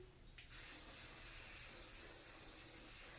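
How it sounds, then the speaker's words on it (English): A can of hair spray sprays onto the scalp of braided twist hair in one long, steady, close hiss that begins after a brief pause and continues to the end. "So I'm just going to take my spray."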